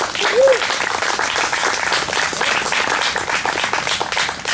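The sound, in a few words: audience applause for park cannon demonstration volunteers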